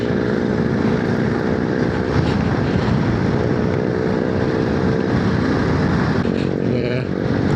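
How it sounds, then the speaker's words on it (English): Loud, steady engine drone of a friend's motorcycle running nearby, a continuous broadband roar with wind noise holding level throughout. "All I can hear is Andy's bloody bike. That is loud."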